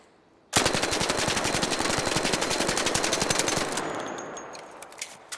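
A full-auto gun fitted with a compensator fires one long sustained burst of rapid, evenly spaced shots, loud and close, then stops with a few scattered echoes and clicks.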